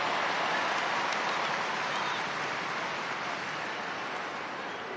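A rugby stadium crowd at a women's international between England and New Zealand roars in a broad, sustained wash of cheering and applause that slowly fades, with a commentator's voice faintly underneath.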